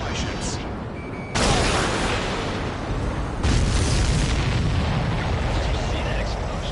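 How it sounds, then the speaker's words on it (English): Missile blasts tearing into a supply ship in the Ace Combat flight game, with a loud explosion bursting out near the one-and-a-half-second mark and a second heavy roar around three and a half seconds, all over continuous jet and battle rumble. "See that explosion? Looks like that's one of them down."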